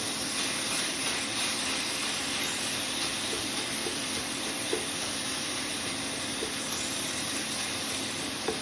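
Ground bison meat seasoned with seasoning salt and black pepper sizzles while browning in a pan, a steady close broadband hiss with faint crackles throughout and no talking.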